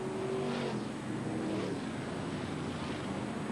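Race cars at the 1990 Jack Claes Memorial Trophy in Baarlo roar past close by, a loud, steady engine drone with rising and falling passes and no voices.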